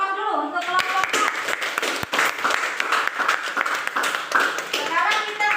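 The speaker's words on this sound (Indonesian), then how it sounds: "beri aplaus dulu untuk kelompok 4" A classroom group applauds a student group with sustained, dense clapping from many hands. Children's voices chatter underneath.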